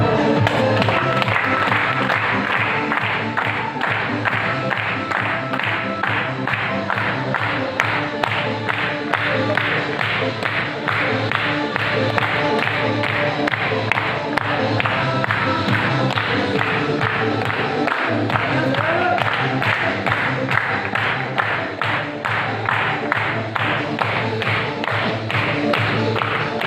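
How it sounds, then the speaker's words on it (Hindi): Loud, sustained applause from a crowd of about a hundred at a leadership and achievers meeting, dense rhythmic clapping that carries on unbroken for nearly half a minute. "आपकी जोरदार तालियों के साथ"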